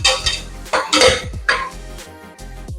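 Beef mandi spices being mixed by hand in a metal pot, with close clattering scrapes and knocks of hand and utensil against the pot in several loud bursts over a few seconds, no talk.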